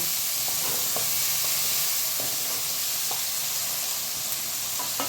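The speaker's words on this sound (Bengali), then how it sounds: "এবার আমি একটু ভাজা ভাজা করব।" Steady frying sizzle of potatoes in oil over medium heat, crackling pops throughout, close and fairly loud, with occasional stirring scrapes.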